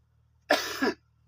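One short, raspy cough sounds close to the listener against a quiet background hum.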